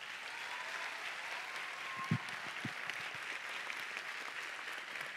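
A closing-ceremony audience at CADE Universitario 2018 gives steady, moderately loud applause for the IPAE organizing team, a continuous wash of many hands with a couple of sharper claps standing out.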